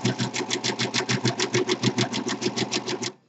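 Singer Pro 5 serger stitching through a piece of fleece, a steady rapid mechanical chatter of about six beats per second, close and even, that stops abruptly at the end.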